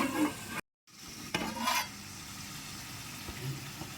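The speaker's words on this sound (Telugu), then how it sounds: "కలిపి కాసేపు మగ్గనిద్దాం." Tomatoes cooking in a pan are stirred with scraping, clattering strokes over a steady sizzle, close by, with a brief dropout near the start.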